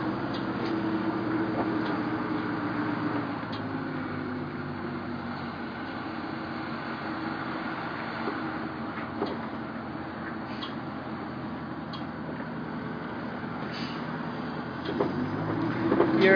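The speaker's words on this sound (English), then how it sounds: "You are riding on Zephyr right now on our test drive around our exciting parking lot." An RV named Zephyr rolling slowly around a parking lot on a test drive after weekend repairs, heard from inside as a steady low engine drone and road rumble, with rattles and creaks throughout and no talking.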